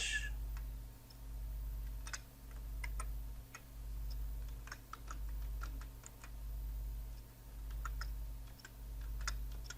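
Keys clatter steadily on a computer keyboard while text is typed into a Word document, the light close clicks sitting over a pulsing low hum and with no voices.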